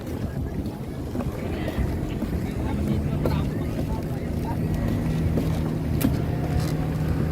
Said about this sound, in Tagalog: Sakay na kaming speedboat po. Nandito na po kami sa speedboat.